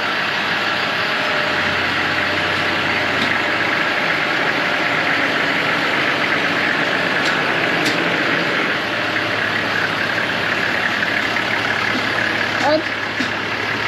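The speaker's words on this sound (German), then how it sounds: "Der Motor läuft immerhin schon, beide Motoren laufen." Steady, loud idling of two overland truck engines drones throughout with a constant low rumble, with faint voices occasionally under it, at Jungle Junction in Nairobi.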